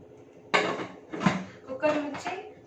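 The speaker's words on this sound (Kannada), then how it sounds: "ಇವಾಗ ನಾನು ಕುಕ್ಕರ್ ಮುಚ್ಚಿದ್ದೀನಿ" A pressure cooker lid closed after loading cabbage pappu, heard as a few close metallic clanks and scrapes of pot and lid, spaced out over a couple of seconds.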